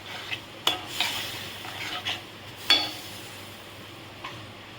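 Raw banana sautés with spices and salt in a pan, a soft sizzle under intermittent stirring and a few clear clinks of a spatula against the metal, no speech.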